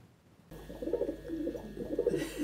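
A pet pigeon coos indoors in a flat, a soft repeated throaty rolling coo in several close bursts over low room noise, with no talking.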